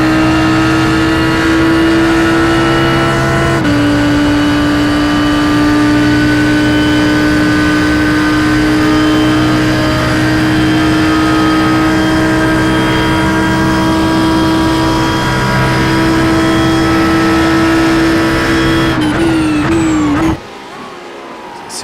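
Race car engine noise at speed during an Australian Sports Car Championship round at Indianapolis, the number 85 car among them, a loud sustained drone with steady pitch, a brief shift near the end and then a sudden drop in level.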